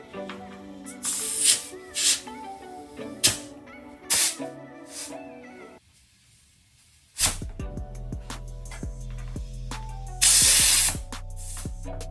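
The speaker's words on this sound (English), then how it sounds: "when you do spray WD-40 near the sprockets and the brakes of your bike" Repeated bursts from a WD-40 aerosol can sprayed on a dirt bike, short hissy blasts with pauses between, then a longer spray over a low hum.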